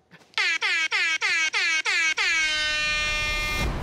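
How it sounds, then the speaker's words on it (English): An air horn blasts in seven short, loud honks in a quick stuttering rhythm, then holds one long sustained blare that fades out, sounded close up as an on-set prank. "I just got hit with the air horn plant prank."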